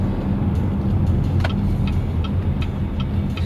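A 2018 GMC Terrain Denali cruises on the highway, giving a steady low road and engine rumble from inside the cabin with a few faint clicks over it.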